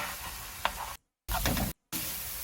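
Food stir-fried in a pan, played back from a cooking video: a steady, close sizzle with a few scraping stirs, cut off by two short gaps of silence.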